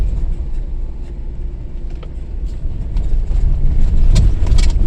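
A car pushing steadily through sand and loose dirt, a loud low rumble of engine and tyres with scattered knocks and rattles, growing louder toward the end, with no voices.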